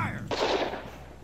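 A single sharp gunshot from the gun fight duel in Nintendo's 1-2-Switch cracks loudly and close, then fades into a short tail.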